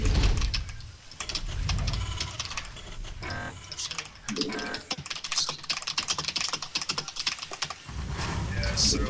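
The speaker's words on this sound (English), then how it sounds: "you're typing so fast it sounds like you're doing your taxes" Rapid typing on a computer keyboard during a drinking livestream, a dense, steady clatter of keystrokes with brief pauses, while voices talk over it.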